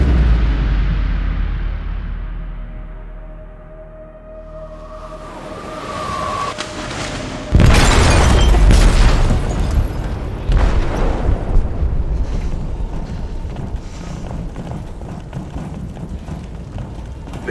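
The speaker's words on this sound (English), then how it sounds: "They detonated an explosive in the hold." An explosive detonates in a ship's hold in the video game Detroit: Become Human, a sudden loud boom bursting over a rumbling, tense backdrop and then settling into a sustained roar of debris and noise.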